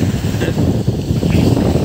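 Strong wind buffets an outdoor microphone with a continuous, loud, rumbling roar and gusty flutter, and no other sound comes through.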